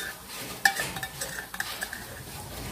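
A spoon stirs sweet sago dessert in a pot, with a few distinct clinks and scrapes against the side as it is mixed close by.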